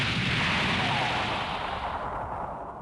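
A big explosion sound effect in an audiobook battle scene, a loud broad roaring rumble that swells immediately and slowly fades, with no narration over it.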